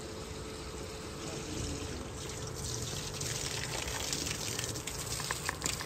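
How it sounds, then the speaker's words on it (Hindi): Water poured steadily into a plant pot in a village courtyard, a continuous close gushing splash that runs unbroken for several seconds with no talk over it. "इसको पानी दो सुकून से,"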